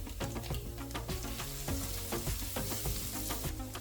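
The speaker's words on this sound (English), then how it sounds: "Then I add 4 crushed garlic cloves, while I keep the hob on low heat so the garlic doesn't burn." Crushed garlic cloves fry in vegetable oil in a wok over low heat, giving a steady close crackling sizzle with dense popping throughout, no voices.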